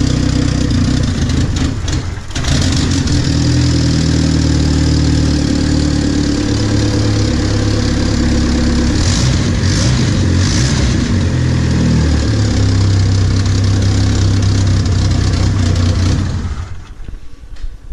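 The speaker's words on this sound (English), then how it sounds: "I would say it has exhaust leak." An SRT-4 car engine with an exhaust leak idles steadily and loudly with a rough, ticking exhaust rasp, holding a constant rumble before cutting off near the end.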